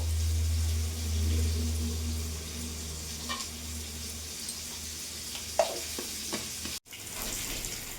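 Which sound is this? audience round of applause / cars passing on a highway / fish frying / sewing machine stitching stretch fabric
fish frying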